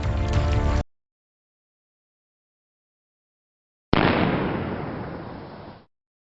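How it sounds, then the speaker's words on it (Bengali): Gunfire from the heroes' guns in the Bengali adventure film Guptadhan, two separate loud blasts, a short one at the start and a longer booming shot after about three seconds of silence. "আমাদের বন্দুকের আওয়াজে ওরা ভয় পেয়েছে।"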